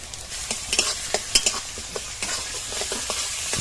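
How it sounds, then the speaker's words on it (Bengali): Chopped onion browned with grated garlic, grated ginger and spices sizzles steadily in a pan, with repeated scraping stirs cutting through the frying hiss, close and fairly loud, no voices. "সবকিছু মশলা খানিকক্ষণ ভেজে নিয়েছি"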